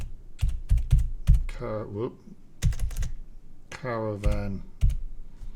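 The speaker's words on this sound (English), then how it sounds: "we're going to just type in caravan" Clusters of crisp clicks from a computer keyboard being typed on, close up, alternating with someone talking between bursts of keystrokes.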